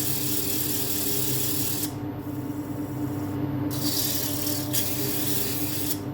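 Sandpaper rubbing a small silky oak bowl spinning on a wood lathe, a continuous close hiss over the lathe's steady hum, briefly lifting off and pressing back on twice.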